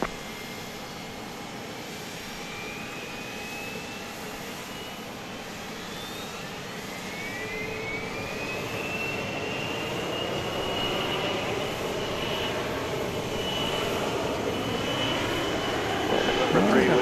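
A fixed-wing aircraft takes off from a runway at Dallas Love Field at night, its engine roar building steadily from a distance and growing louder, with radio chatter audible in the background.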